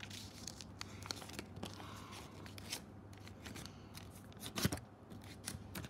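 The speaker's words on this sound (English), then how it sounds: "Fold them half like this." Paper is folded and creased by hand for an origami crane, giving soft, close rustles and crinkles with a few sharper snaps, faint and irregular over several seconds, with no speech.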